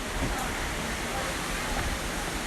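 Waterfall roaring in a broad, constant wash of rushing water, loud and steady throughout, with a voice faintly present under it.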